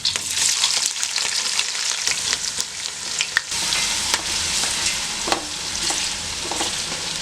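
About ten whole small shallots tossed into hot oil with spices for a dhaba-style veg biryani, giving a steady loud sizzle with intermittent spoon scrapes and stirring clacks throughout.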